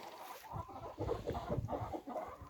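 Chickens cluck steadily at close range in a busy, overlapping chorus of short, throaty calls in a Turkish village, with no voices.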